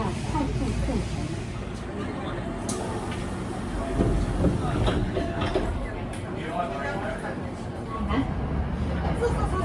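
A Hankyu rapid limited express train runs with a steady low rumble and rolling hiss, carrying continuous rail noise with occasional clunks throughout.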